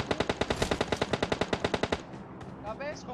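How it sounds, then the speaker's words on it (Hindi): Rapid bursts of automatic gunfire in PUBG Mobile, about twenty evenly spaced shots in quick rhythm, then quieter game sounds and a brief voice. "पता नहीं यार मैंने कितना गोली चलाया इनके ऊपर।"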